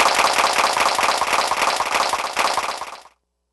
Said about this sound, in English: Let's put our hands together for the Simmons Electronics Digital Clap Trap!